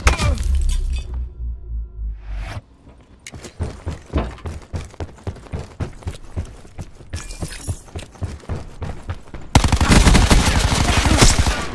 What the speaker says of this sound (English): Firing sensor gun.